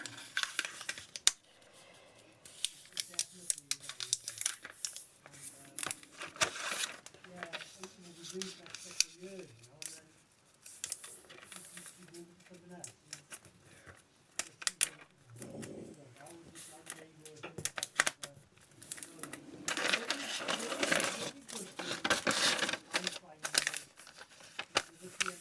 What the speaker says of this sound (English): Tracing paper is a bit tricky to cut, but we'll do the best we can.